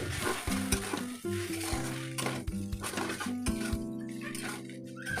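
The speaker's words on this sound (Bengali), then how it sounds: "এবার এগুলো আলুর সাথে ভালোভাবে মিশিয়ে নিতে হবে" Boiled atta noodles are stirred together with potatoes in a pan, a spatula scraping and clinking against the metal under a soft sizzle, with a few louder knocks, close and alone without talk.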